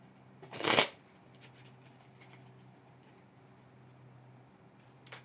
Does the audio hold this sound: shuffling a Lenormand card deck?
yes